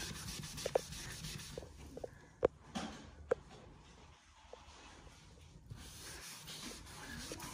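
Someone scrubs marks off an interior wall, a close rubbing and scraping sound with a few sharp taps and knocks mixed in.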